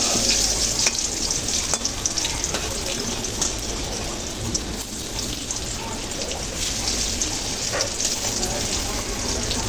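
Brinjal slices frying in hot oil as they are flipped, a loud, dense, rain-like sizzle that runs continuously, with faint taps and clicks from turning the pieces.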